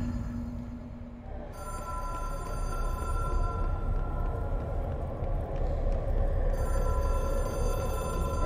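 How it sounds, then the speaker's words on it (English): A telephone ringing in the video game Control, a steady electronic ring that starts after a moment and continues over a low, constant background hum. "I would like to sit down and answer the phone"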